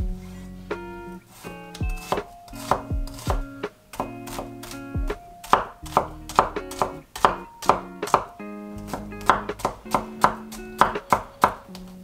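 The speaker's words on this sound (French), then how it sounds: "Donc tu vas détailler ton échalote." Knife chopping a shallot on a cutting board, a steady series of sharp, close knife strikes in quick irregular bursts, heard alone without talk.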